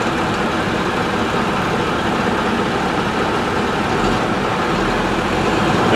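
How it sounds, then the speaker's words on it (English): A heavy truck engine lugs low and steady in low gear with a trailer's parking brake set, a constant rumbling strain with no speech and no pauses. "We'll put it in low gear, let our engine lug"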